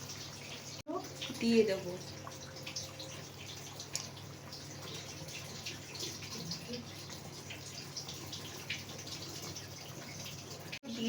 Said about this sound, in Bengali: আমি আগাগোড়াই যখন মাংস করি তখন গরম জলটাই দিই।